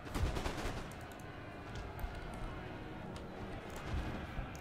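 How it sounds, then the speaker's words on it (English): Canister shot artillery barrage in a Napoleonic Wars battle game, sounding as a dense, continuous rattle of gunfire and blasts at moderate distance, with rough peaks near the start and end. "Canister shot. Canister shot. Barrage."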